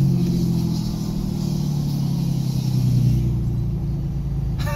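A deep, steady engine rumble from a Ram 2500 diesel pickup truck with its exhaust brake engaged, loud and close, with a low droning exhaust note that holds throughout and shifts slightly midway.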